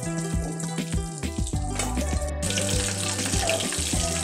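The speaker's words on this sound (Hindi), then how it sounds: "शामी कबाब फ्राई हो रहे हैं, अब ये थोड़ी देर में तैयार हो जाएंगे।" Shami kebabs fry in hot oil, giving a continuous, close sizzling hiss that runs without pause, with a steady tonal hum underneath.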